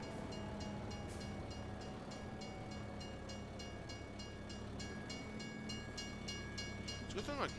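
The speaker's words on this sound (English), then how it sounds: "Just a second train comes by and completely topples me over." A train passing in the Farming Simulator video game gives a long, steady mechanical rumble and rolling drone with faint tonal whines, ending in a brief rising squeal.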